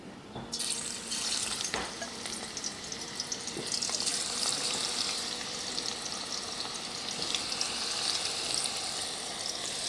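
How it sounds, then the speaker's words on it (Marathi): Cooked jackfruit vegetable added to hot oil and frying, a sudden burst of sizzling at the start that settles into a continuous crackling hiss, with occasional soft stirring knocks against the pan. "आता ही जी भाजी आपण शिजवून ठेवली ती आपल्याला थोडीशी फ्राय करून घ्यायची आहे"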